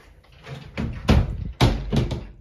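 A wardrobe cupboard door being installed gives a few solid knocks and thuds, ending in two heavy closing bangs, loud and close.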